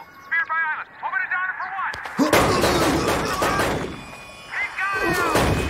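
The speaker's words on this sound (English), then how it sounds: "Bullets fly." Gunshots crack out in a sharp burst during a TV episode scene, loud and close, following a stretch of speech and fading into more dialogue.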